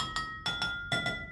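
Water-filled drinking glasses struck with a wooden spoon ring out in five clear, bright strikes, each chime sustaining and overlapping the next, with two pairs following a single opening tap.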